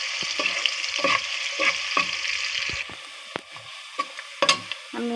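Onions fry in oil in a pan, with a steady sizzle broken by repeated stirring scrapes and clinks of a spoon against the pan, close and fairly loud.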